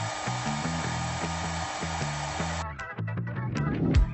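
An xCool SuperCare 2-in-1 hair dryer runs as a hand dryer on wet fabric, a loud steady blowing hum under a rhythmic beat of background music that shifts partway through.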